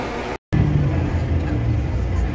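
Steady low rumble inside a moving bus on a trip from a Philippine terminal toward Cubao, broad engine and road drone filling the cabin throughout after a brief dropout, with faint voices in the background.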